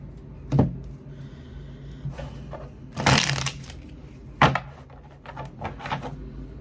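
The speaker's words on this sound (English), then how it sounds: "Hold on, one more shuffle." Tarot cards are shuffled by hand in a few separate bursts of riffling and slapping, close and crisp, with brief pauses between them and no talking.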